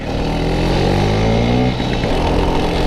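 A 1977 Vespa Super 150 scooter engine runs loud and close while riding, a continuous buzzing two-stroke drone with shifting pitch throughout.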